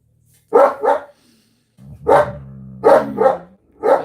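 Dogs barking close and loud, a series of sharp single and double barks separated by short pauses, one bark followed by a low growl.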